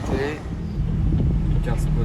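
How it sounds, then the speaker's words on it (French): A purple McLaren sports car passes on a summer street near a casino, heard as a steady broadband road and engine rush mixed with wind buffeting, with people talking over it throughout. "voit la McLaren violette passer"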